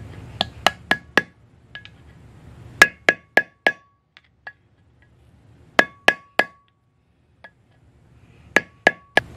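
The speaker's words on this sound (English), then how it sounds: "We just tap the edge of the seal, hammer it back down in there." A hammer tapping a seal into the spindle of a 1966 Mustang, crisp metallic strikes in quick bursts of three to five, separated by short pauses and lighter single taps, close and clear.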